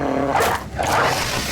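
Dogs attack in the tactical video game Battle Brothers: a loud, close burst of snarling, barking dog noise lasting under two seconds, with no talk over it.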